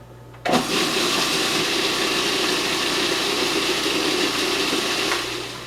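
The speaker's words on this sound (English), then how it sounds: "I'm just going to turn this on to blend it" An electric blender kicks on suddenly and grinds oatmeal with baking soda into powder, a loud steady motor whir running several seconds before it starts to wind down.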